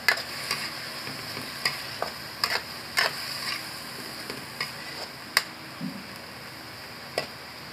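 Sotanghon noodles sautéed in a pan, with light sizzling under a string of sharp, irregular clicks and taps from a utensil stirring and scraping the pan, close by and fairly quiet.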